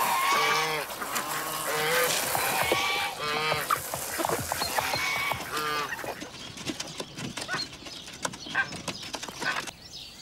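Geese and other farmyard fowl honk loudly and repeatedly near a pigsty on a chilly early spring morning, busy calls filling the first six seconds before thinning to scattered fainter cries.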